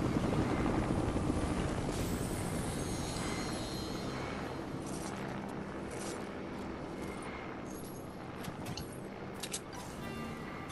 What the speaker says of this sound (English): this is my chopper